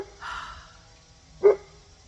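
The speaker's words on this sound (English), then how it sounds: "Now she came out to bark." A dog barking outdoors at home, two short barks about a second apart, moderately close against quiet surroundings.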